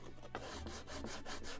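Steady rasping rub of a tool chamfering the edge of a wooden plank for a model ship, with quiet repeated strokes close up and no talk.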